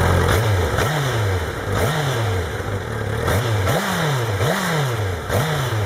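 A Honda CBR1000RR sport motorcycle with an aftermarket Hyperflow exhaust revs repeatedly in sharp rising bursts, a loud, raspy exhaust note swelling and dropping about once a second, close by.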